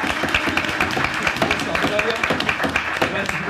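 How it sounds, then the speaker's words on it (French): An audience applauds a guest arriving on a French TV talk show: steady, dense clapping throughout, fairly loud and close, with voices mixed in. "On peut l'applaudir, elle est présente avec nous."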